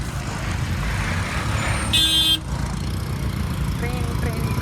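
Busy road traffic hums and rumbles with engines passing, and one loud car horn blasts about midway; faint background voices mix in.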